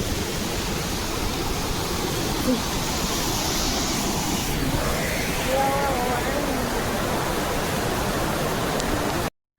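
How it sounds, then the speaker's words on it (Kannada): Heavy rain pours steadily outdoors on a trip in Chikkamagaluru, a dense, constant wash of hiss and patter filling nearly ten seconds, loud and unbroken, with a faint voice briefly under it. "ಎಷ್ಟು ಮಳೆ ಬರ್ತಾಯಿದೆ ಅಂದರೆ ಸೌಂಡು ಇಪ್ಪತ್ತುವರೆ ಪಟ ಪಟ ಅಂತೈತೆ"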